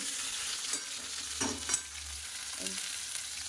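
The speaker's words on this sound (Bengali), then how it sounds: "তাহলে আর একটু ভাজা হবে পটলটা" Pointed gourd (potol), some whole and some cut, frying in a pan with a steady, soft, close sizzle and a few faint stirring scrapes, no voices.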